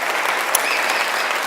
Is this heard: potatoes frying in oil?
no